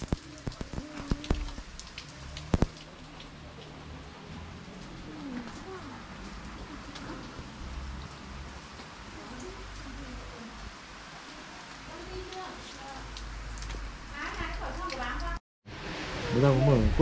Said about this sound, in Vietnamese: bây giờ đi ra ngoài trời hơi mưa.